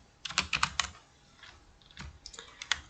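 Fingers typing on a computer keyboard, a quick burst of light key taps followed by a pause and then a few more scattered presses, close and fairly quiet.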